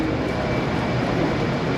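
Etihad Airways airplane departing, heard as a steady, loud roar of jet engines with a high whine on top, constant and unbroken for a couple of seconds with no talk.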